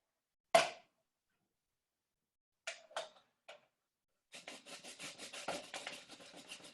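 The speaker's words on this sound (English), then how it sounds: "Grate it a little like a cheese grater. Rub the outside." Lime zest being grated by rubbing the outer peel of a lime over a grater like a cheese grater: one sharp scrape, a few short rasps, then a quick run of rhythmic scraping strokes, close and fairly quiet.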